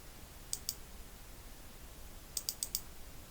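Computer mouse clicks: a quick pair of sharp, light clicks, then a short pause and a burst of four rapid clicks, close up over a quiet room hum.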